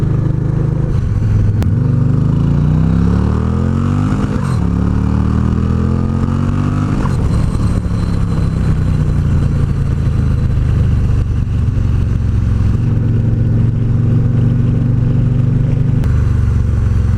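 Supercharged bagger motorcycle of over 165 horsepower accelerating hard in third gear, a loud, close engine roar rising in pitch through quick shifts and then holding a sustained high drone, with no talking.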